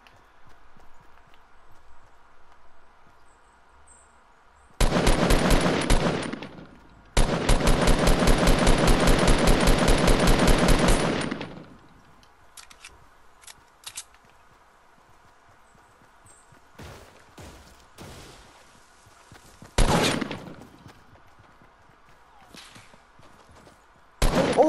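An assault rifle fires in Fortnite in two loud bursts, one short and one longer, of rapid evenly spaced shots. Scattered single shots and sharp impacts follow against a faint background hum, with no voices.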